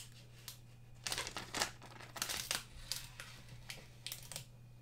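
Transfer tape peeled off vinyl on glass: faint crinkly tearing and crackling in several short bursts over a low steady hum.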